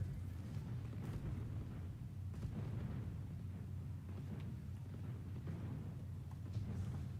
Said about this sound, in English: there's so many fireworks going on